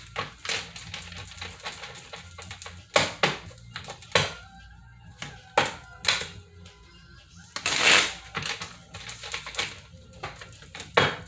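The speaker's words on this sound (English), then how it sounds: "we're gonna cut and shuffle" Tarot cards being cut and shuffled by hand make a run of crisp, irregular close-up riffles and taps over about eleven seconds, with no one speaking.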